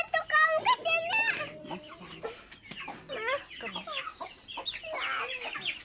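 Several chickens of mixed breeds cluck and bawk close by in a backyard flock, busy overlapping calls throughout, with people talking over them.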